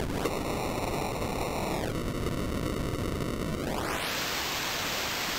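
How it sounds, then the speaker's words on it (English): Broadband hiss of white noise from a Dreadbox synthesizer noise module under a buzzy tone that glides down and then sweeps high, steady and loud throughout. "So you can also get the pure white noise if you close down all the pink noise."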